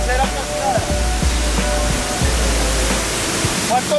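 Water crashing down the second and third falls at the Garganta del Diablo, roughly 45 to 70 metres high, a loud, constant roaring rush that stays close and unbroken throughout.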